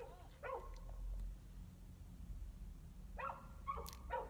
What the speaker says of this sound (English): There's a dog really letting loose.